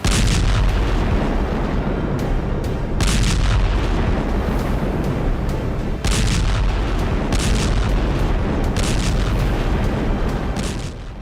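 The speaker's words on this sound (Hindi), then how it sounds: "धमाकों से थरथराती जमीन" Heavy artillery fire and explosions shake a war zone near Kyiv, Ukraine, a dense, continuous rumble of booms with sharp blasts recurring every few seconds, loud and without voices.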